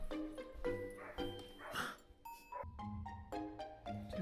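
A dog barks, yips and whimpers in short excited bursts as it plays nearby, with quick irregular calls and brief gaps between them.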